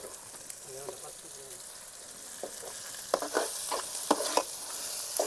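Chicken pieces fry in hot oil in a large pot while being stirred, with a steady sizzle and intermittent louder scraping clatters of the spoon against the vessel, strongest in the second half.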